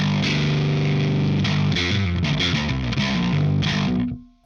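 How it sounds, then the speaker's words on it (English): Bass guitar runs through a cranked SVT Ampeg amp simulation, heavily distorted, thick and fuzzy. It plays a dense, loud riff and stops abruptly at the end. "I'm using a super distorted, completely cranked SVT Ampeg simulation that sounds like this"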